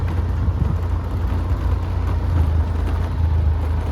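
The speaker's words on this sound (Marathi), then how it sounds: "या दगडांपासून रोड बनवला आहे बघा. पण गाडी आपली खूप शेक होते." A car rolls over a rough road built from stones near Jaisalmer, giving a steady, loud low rumble with faint knocks and jolts from the shaking cabin.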